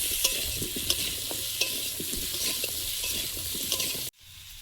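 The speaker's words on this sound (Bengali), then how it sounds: "কালো জিরে, চেরা কাঁচা লঙ্কা, লবণ হলুদ দিয়ে আলুটা ভেজে নেব।" Potatoes fry in oil with black cumin, slit green chillies, salt and turmeric, a dense close sizzle broken by rhythmic scraping stirs, ending abruptly as the pan goes quiet.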